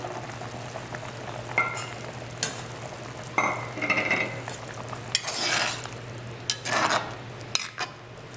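Okra, fish and plantain dropped into a simmering Trinidad-style fish broth, giving bursts of bubbling, sizzling and stirring with occasional utensil clinks against the pot, close and moderately loud with no talking.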